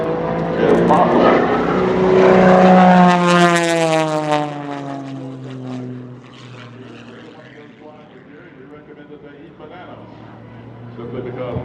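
Extra MX-2 aerobatic plane performing step rolls at an air expo, a loud propeller engine roar rising then sweeping down in pitch as it passes, fading to a distant drone, with a commentator talking over it.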